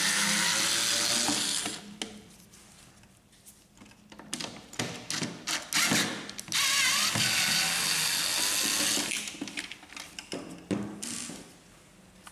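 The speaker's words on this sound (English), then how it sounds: "remove these two screws." Screws being undone from an Epson XP-2100 ink-jet printer, a close series of ratcheting, clicking screwdriver turns in short bursts with brief pauses between them.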